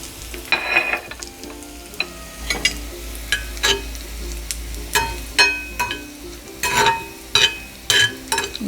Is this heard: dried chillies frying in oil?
yes